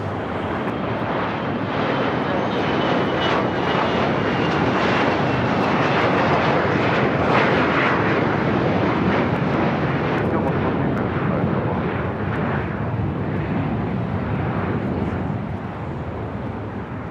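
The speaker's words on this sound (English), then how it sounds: "Lufthansa A380 will be making that left-hand turn on to" A Lufthansa Airbus A380 taxiing at Los Angeles airport and turning left onto a taxiway, a loud, steady jet engine roar that holds for the whole stretch and eases slightly at the end, with no talk over it.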